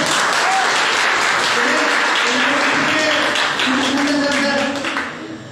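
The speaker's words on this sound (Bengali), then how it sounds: "মন থেকে হাততালি হোক স্যার।" Steady, dense audience clapping fills a celebration program, loud and continuous before easing slightly at the end, with faint voices mixed in.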